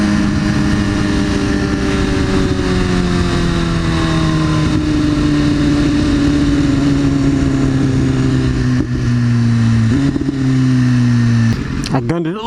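Superbike engine, close and loud, holding a steady high drone that slowly sags in pitch, then a sharp burst of revving and acceleration near the end, with talk over it.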